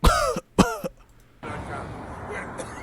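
A man coughs twice sharply and close up, then a steady hiss of background noise follows.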